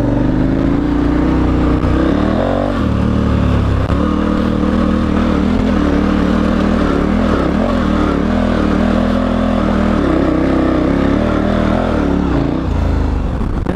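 A motorcycle on Dunlop TrailMax Mission tires labours up a wet, muddy hill, its engine droning loud and steady throughout with uneven revving and shifting load, heard close and alone.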